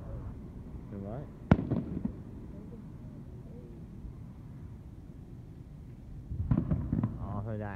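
Fireworks at a large Orange County display, one sharp nearby bang followed by a cluster of booms and crackles several seconds later, with people chatting in between.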